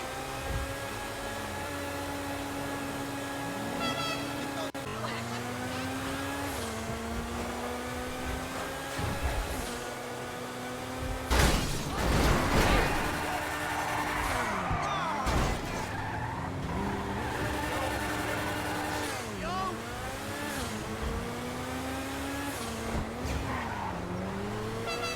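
A car in GTA Online drives hard with a revving engine that rises and falls through gear changes, broken by bursts of loud tire skidding and squealing, close and continuous.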